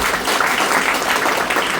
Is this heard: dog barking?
no